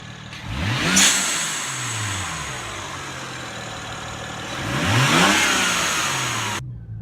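A car with an aftermarket exhaust, a BMW E92, revs up twice in close passes, each rev rising in pitch and then falling away, with a steady engine drone in between and no talking.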